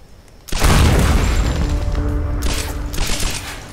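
A mine blows up in Tomb Raider (2013), a sudden loud boom that follows a quiet start and then a long rumbling roar that slowly fades.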